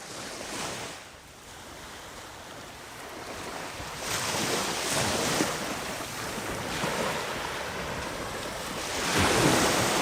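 Ocean surf at low tide in the evening, with waves washing in as broad, steady rushing swells that rise and fall over several seconds, mixed with wind buffeting the microphone.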